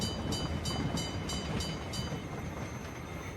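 Steady low rumble of a train in a video game, with evenly spaced rhythmic clicks of wheels over rail joints, continuous and moderately loud.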